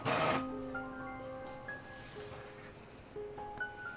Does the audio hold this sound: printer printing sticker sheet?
yes